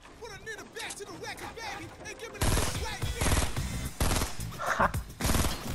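Rapid bursts of gunfire from the video game Fortnite, loud repeated volleys crackling in short clusters, with someone talking excitedly over the first part.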